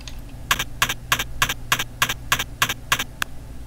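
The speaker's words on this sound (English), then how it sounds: "Yeah, just a series of taps," Ten evenly spaced electronic taps from the Space Quest 2 game on the Apple IIgs, each a short bright click repeating at a steady rhythm, alone over a faint low hum.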